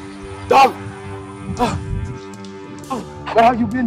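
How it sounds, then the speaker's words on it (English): A dog gives three or four sharp barks and yips, spaced unevenly over a sustained musical tone, close and fairly loud. "Dog!"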